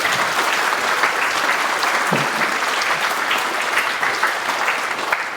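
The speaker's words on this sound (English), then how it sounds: "please give Unit Delta 4423 another big round of applause" Sustained applause from an audience at a WHY 2025 talk on building a robot visor, steady dense clapping filling the room at fairly loud level for the whole stretch.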